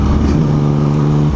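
A motorcycle fitted with only a diffuser on its exhaust holds a loud, steady low engine drone with a humming tone, close by and unbroken for the whole moment.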